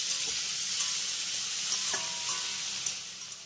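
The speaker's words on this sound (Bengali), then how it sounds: "এবার টমেটো আর কাঁচা লঙ্কা কুচিটাকেও পেঁয়াজের সঙ্গে একবার ভালো করে মিশিয়ে নেব।" Chopped tomato and green chilli stirred into frying onions: an even close-up sizzle with a few light scraping strokes and clinks of a spoon against the pan, no voices.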